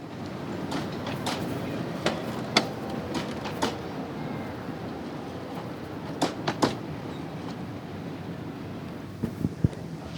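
A small children's railway train rolls along at a Rivne station, a steady rumble with wind noise on the microphone and sharp clanks and knocks scattered through the run, moderately close.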